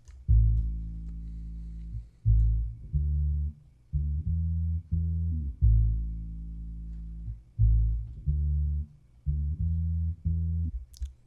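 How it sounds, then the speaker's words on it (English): A bass line played on a guitar and pitched down an octave with EQ to trim the highs: deep, plucked notes in a bouncy repeating rhythm, with short gaps between phrases, loud and close. "the next thing I recorded was a bass line"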